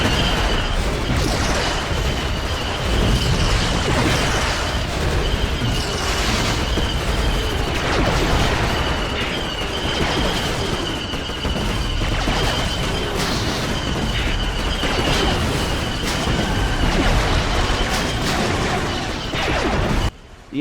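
A dense battle in Star Wars Battlefront, with an AT-TE walker under heavy wrist rocket and launcher fire: continuous booms, blasts and crashing explosions overlapping loudly throughout.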